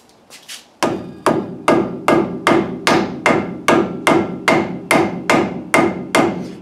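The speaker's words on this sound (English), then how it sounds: "And just tap that on with a rubber mallet." Rubber mallet tapping a hub part onto a Toyota five-lug hub conversion on a RAM 50, about a dozen loud evenly spaced knocks close up, each ringing briefly, after a few faint sounds at the start.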